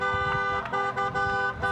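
Car horns honk repeatedly beside a cycling race on the road, several short blasts sounding in an uneven rhythm over a steady background.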